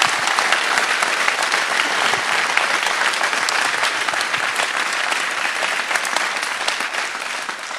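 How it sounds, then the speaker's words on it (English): A town hall crowd in Waukee, Iowa gives law enforcement officers a big round of applause, a loud sustained roar of many clapping hands filling the room evenly from start to finish. "Please give them a big round of applause."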